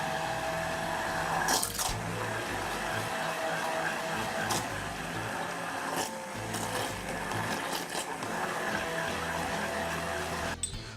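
A blender runs steadily, whirring mushroom bisque soup into a purée, its motor drone continuous and fairly loud with a few brief clattering bursts.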